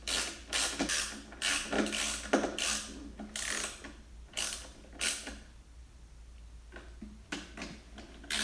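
A socket ratchet tightens a bolt while a Chamberlain 1HP Whisper Drive garage door opener is installed, rapid clicking bursts in repeated strokes with short pauses, close and clear, no talk.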